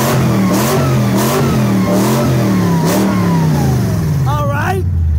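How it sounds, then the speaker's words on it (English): A BMW 740i and a Mercedes E320 with open exhaust rev loudly at a junkyard, engine pitch rising and falling in repeated blips close by, with a voice heard near the end. "Now I want you guys to rev them up. Jump in yours and rev it up."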